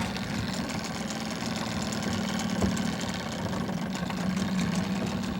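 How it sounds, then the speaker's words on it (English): A rental outboard boat motor runs steadily after starting, a continuous low droning hum with a faint knocking texture, close and alone without voices. "Oh, the way that motor started up"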